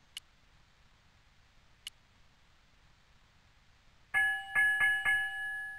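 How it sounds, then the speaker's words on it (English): Two bell chimes ring out in a pirate-themed adventure video game, clear tones with a short decay, struck one after the other over a quiet background with no talking. "Two bells and all's well."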